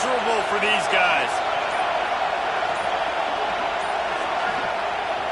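Steady roar of a large crowd in a football stadium, loud and constant throughout, with a commentator's voice briefly heard over it at the start.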